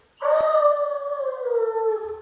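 A hound dog named Charlie lets out one long, loud, sustained howl close by, its pitch sliding slowly downward for about two seconds with no talking.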